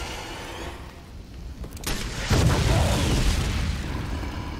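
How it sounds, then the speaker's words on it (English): A rocket explosion in the video game Resident Evil 3: a sharp blast hits after a brief lead-in, followed by a heavy, rumbling boom and debris noise that lingers loudly. "he shot a rocket at him?"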